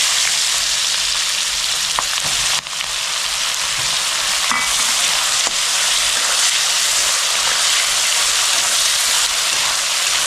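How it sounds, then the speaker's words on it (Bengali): Chopped onion fries loudly in hot oil with whole garam masala and cumin, a dense continuous sizzle close up, broken by a few sharp scrapes of a spatula stirring the pan. "পেঁয়াজটা হালকা লাল করে ভেজে নেব।"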